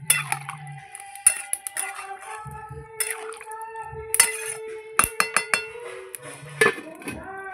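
A lid set onto a cooking pot of taro simmering in water, a few bright metallic clinks and clatters close by, scattered among quieter kitchen sounds.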